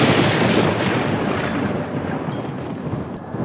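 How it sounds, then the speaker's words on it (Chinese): Thunder rolls as a long, loud, broadband rumble that fades slowly without a break, with no one talking over it. "打雷自然会下雨"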